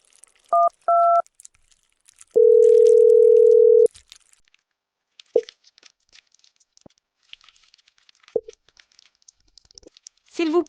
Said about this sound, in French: ma stupide assistante qui compose un numéro de téléphone